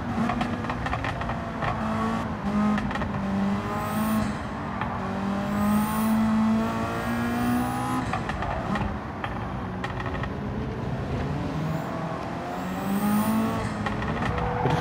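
Honda Sports VGT race car in Gran Turismo 7 on the Interlagos circuit, its engine droning steadily and climbing in pitch through repeated gear runs, with loud continuous revving and brief shifts throughout.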